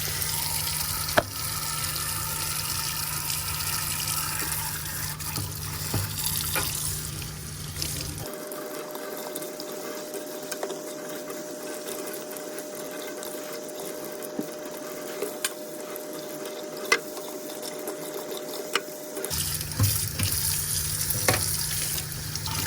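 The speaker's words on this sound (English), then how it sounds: "once you have rinsed all of those out" Clay tools rinsed under a running tap in a sink, a steady hiss of flowing water that drops away partway through and returns near the end, with faint clinks of tools against the basin.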